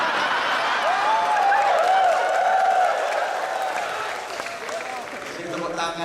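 An audience at a religious sermon gathering of Indonesian expatriates in South Korea claps together in a steady, moderately loud wash of applause that gradually fades toward the end.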